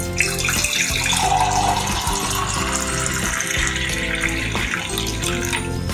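Lemon drink poured steadily into a glass, a loud continuous splashing rush of liquid lasting several seconds, heard up close with no talking.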